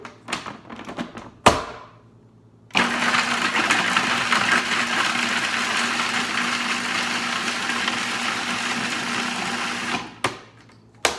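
A food processor grinds basil and other ingredients for vegan pesto, a loud steady whirring roar sustained for about seven seconds, bracketed by brief clunks and short bursts before and after.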